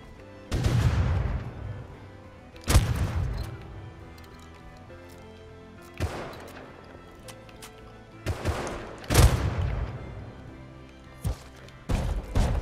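Sporadic gunfire in the survival game Rust: several sharp, loud single shots spaced irregularly, some in quick pairs, over a faint background.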